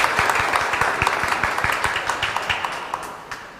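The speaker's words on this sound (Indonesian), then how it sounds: "Tepuk tangan untuk diakon kita." Seminary gathering for a priestly ordination at Seminari Tinggi St Paulus clapping for the deacon, a modest group of distinct handclaps in a loose rhythm, fairly near, tapering off toward the end with no talking.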